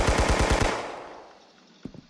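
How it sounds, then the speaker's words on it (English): A Tommy gun fires a rapid burst of about six loud shots in the Roblox game Arsenal, then the sound trails off into a decaying echo, with a faint click near the end. "Got the Tommy gun, jump shotgun, whatever you want to call it, Tommy gun around here."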